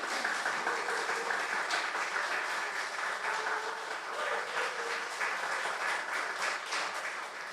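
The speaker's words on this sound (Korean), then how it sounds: "하나님 앞에 감사의 박수 그리고 귀한 목사님 보내주심에 또 감사해서 우리 박수 한번 하도록 하겠습니다" A church congregation applauds together in a Korean church service, a steady, fairly soft wash of many hands clapping that carries on for the full length of the clip.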